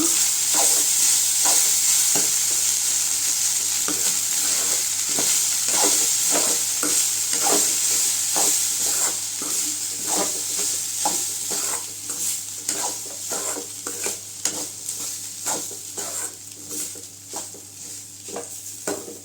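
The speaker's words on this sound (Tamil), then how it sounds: "உப்பு சேர்த்து நல்லா கலந்து விட்டுக்கலாங்க." Carrot rice being stirred with salt in a pan, a long run of repeated scraping and tossing strokes against the metal over a low, steady sizzle, close by and without any talk.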